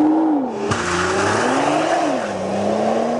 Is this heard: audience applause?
no